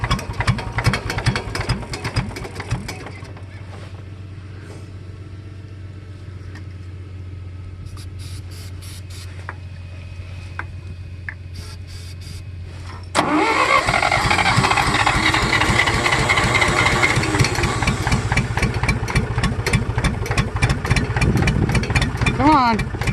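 A John Deere tractor cold-starts, a low idle rumble and clicking giving way around midway to a much louder, steady running engine; voices speak over it at times.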